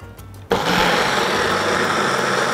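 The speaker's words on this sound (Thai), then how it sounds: "พวกเครื่องปั่นพลังสูงทั้งหลายเราไม่สามารถปั่นได้นานขนาดนี้นะ" A Titan Power Booster blender blending thick corn soup with added milk starts abruptly after a short quiet moment, then runs at a steady, loud, high-pitched motor whine with a churning roar, close up and without talk.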